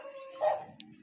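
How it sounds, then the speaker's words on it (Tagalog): Several dogs bark outdoors in a noisy Philippine neighborhood, with one louder bark standing out briefly over a continuous busy background. "daghan ra ba kay mga iro diri na saba"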